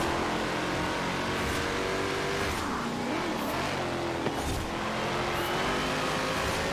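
A 1996 HSV GTS-R rear-wheel-drive car racing on a wet track in Forza Horizon 4, its engine droning steadily and loudly with shifting revs throughout.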